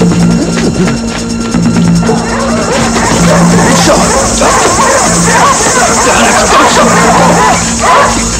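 Dogs bark and yip amid a dense, noisy outdoor scene, with shouting voices and a constant droning hum underneath.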